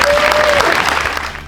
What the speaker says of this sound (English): Give Rick a hand clap